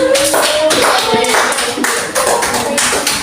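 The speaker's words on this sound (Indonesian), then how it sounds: "tepuk tangan untuk kelompok 1." A class of students claps for a presenting group in a classroom, a brisk burst of many hands with uneven taps, close and loud, with faint voices mixed in.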